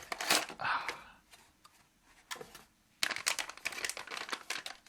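Paper box packaging of a NUCLEO development board being opened, with close, soft crinkling, rustling and tearing of paper and cardboard in irregular bursts and short pauses.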